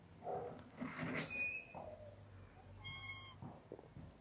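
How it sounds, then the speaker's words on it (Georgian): Domestic cat meowing nearby, a few short cries spread across a quiet moment with faint background rustle. "მე კატა მომყვა"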